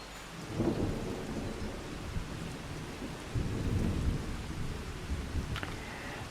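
Rain and a rolling thunderstorm in the farming game Farming Simulator 25: steady hiss of rainfall with low thunder rumbles swelling twice, near and full, with no voices.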